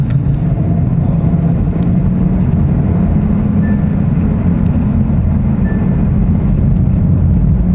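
A manual Hyundai Avante N driven at high speed with the throttle fully open, giving a steady, loud low rumble of engine and road noise throughout, with no pauses and no talking.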